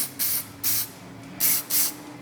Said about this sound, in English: What I'm putting on there is this rust release penetrant spray.